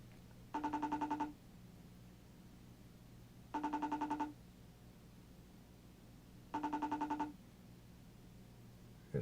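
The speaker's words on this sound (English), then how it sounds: "It's ringing. Whole bunch of ringy dingies." Outgoing call ringing during a live broadcast, three evenly spaced trilling bursts, each lasting under a second, separated by roughly two-second gaps, heard faintly over a low hum with no voices.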